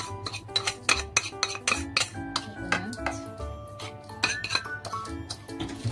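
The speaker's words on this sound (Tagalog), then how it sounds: "we have to mix the sugar into the coconut" Sugar is mixed into grated coconut in a bowl, with a spoon clinking and scraping against the dish in quick, bright, ringing taps, close and busy, with no talking.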